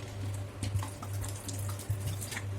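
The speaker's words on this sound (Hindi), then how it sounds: "और थोड़ा सा पानी डालेंगे" Water poured from a tap or jug into a mixture of grated coconut, salt, cumin powder and lemon for coconut chutney, a steady close trickle and splash over a low constant hum, with no talking.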